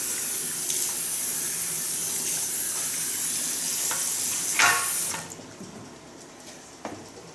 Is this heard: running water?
yes